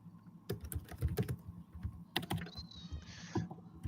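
Computer keyboard keys clatter in uneven bursts of close, crisp clicks with short pauses, and a faint high whine briefly rises in the background.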